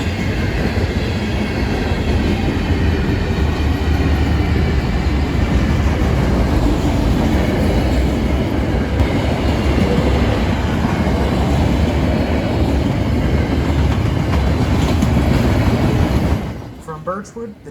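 Alaska Railroad northbound freight train with empty tank cars rolling past close by: a steady, loud rumble with rattling cars and clacking wheels throughout, fading out abruptly at the end.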